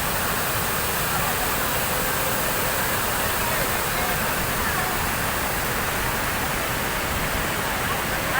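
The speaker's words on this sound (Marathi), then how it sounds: "मस्त असं वाहताना पाणी." Water rushes continuously at a lake dam, a dense, loud, even roar filling the whole stretch with no pauses.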